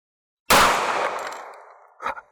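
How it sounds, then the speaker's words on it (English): A Remington Golden Saber .45 ACP round fires from a SIG 1911 pistol at an outdoor range, one sharp, loud crack with a long, rolling echo, then a short metallic clatter. "Remington Golden Saber, 45 ACP out of a SIG 1911"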